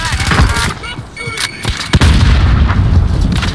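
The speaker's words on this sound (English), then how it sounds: "My grenade just hit somebody." A grenade bursts in a video game firefight, loud booming blasts mixed with rapid gunfire that fill the whole moment, one sharp crack standing out near the middle.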